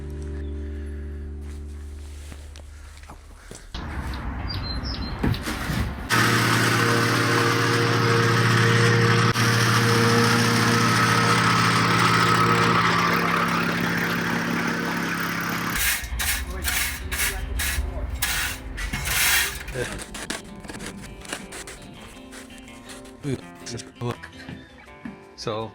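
A plate compactor whacks down granite dust as a base for an artificial lawn, a loud continuous buzzing rattle running for several seconds before cutting out, followed by scraping and clattering noises.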